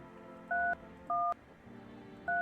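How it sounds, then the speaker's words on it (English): Three short touch-tone telephone dialing beeps, each a steady dual-tone chirp of about a quarter second, evenly spaced and clear with quiet gaps between them. "Let me use this phone for the neighbor."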